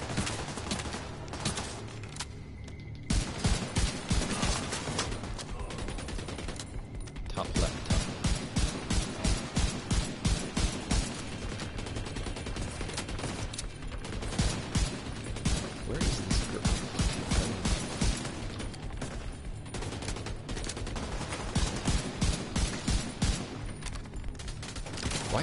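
Sustained automatic gunfire in The Division 2, loud and close, in rhythmic rapid bursts separated by short gaps, with crashes and mechanical clatter mixed in and faint talk underneath.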